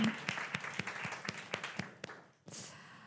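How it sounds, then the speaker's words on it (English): An audience at a women-in-tech event applauding, a run of distinct claps from a modest crowd that briefly drops off and then swells again. "And this applause is for you."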